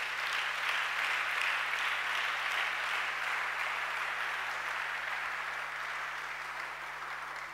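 A church congregation applauds the Lord with sustained, even clapping that fills the room for several seconds, moderately distant and fading slightly toward the end, with no talk over it.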